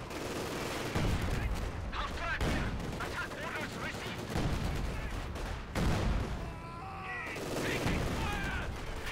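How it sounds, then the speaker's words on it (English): An artillery barrage in Company of Heroes 2, with repeated booming blasts and crackling gunfire mixed with battlefield noise, plus brief whistling tones, under occasional talk. "Go artillery barrage, please"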